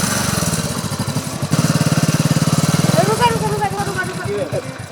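Motorbike engine running close by in a rural Maithili comedy scene, a steady throbbing putter that surges and revs midway, with people talking over it throughout.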